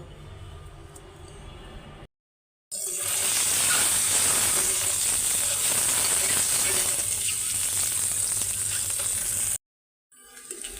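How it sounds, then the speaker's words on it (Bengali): Eggs fry in a pan for egg bhuna, a loud continuous sizzle and hiss that cuts in abruptly after quieter kitchen sounds and stops just as suddenly. "ডিম ভুনাটা করে নেই। এখানে আমি এই যে ডিমটা ভাইজা নিছি"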